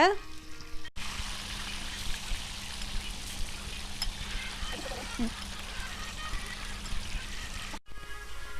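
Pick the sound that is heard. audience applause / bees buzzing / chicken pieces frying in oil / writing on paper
chicken pieces frying in oil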